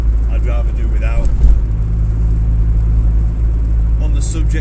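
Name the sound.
road noise inside a Honda Civic EG with H22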